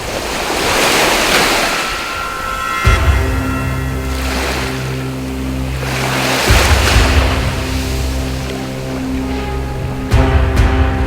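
Pacific Ocean waves grow rough around divers offshore, rolling and crashing in repeated surges about every three to four seconds, loud and near, with heavy wind buffeting the microphone.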